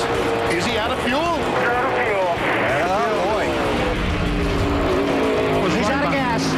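Jeff Gordon's No. 24 NASCAR Cup car spins coming to the checkered flag at the 2003 GFS Marketplace 400 while race cars roar past, a loud continuous engine drone with tire squeal and a commentator talking throughout.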